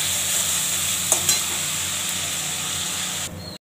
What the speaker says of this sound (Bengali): এবার ভালো করে কষাবো।